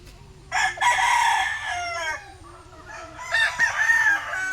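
Chickens and a rooster at a farmyard in Dolores: two loud, drawn-out cock-a-doodle-doo crows ring out close by, separated by a short gap, over soft background clucking.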